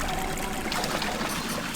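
Water draining through a turned valve in the video game Prisoner of Ice, a steady, loud rushing trickle and pour that continues without a break.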